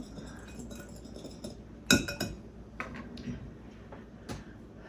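A spoon stirs cinnamon into brownie batter in a bowl, giving soft scraping and a few bright clinks against the bowl, quiet and close with sparse taps.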